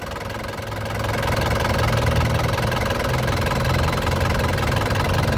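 A 2013 Isuzu Panther LV 2.5 turbo diesel engine revs up from idle and holds a steady, loud, rough diesel drone throughout, heard up close with no talking.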